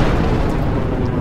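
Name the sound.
explosion sound effect of balefire egg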